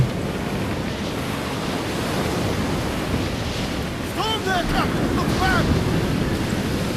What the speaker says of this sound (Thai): ลมแรงซะเหลือเกิน